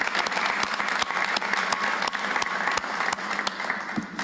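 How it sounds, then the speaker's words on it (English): An audience claps for a guest at an outdoor St. Louis-area leaders' briefing on heat relief, giving steady, dense applause throughout with a few sharper claps standing out and no talking over it. "So if we give him a round of applause too."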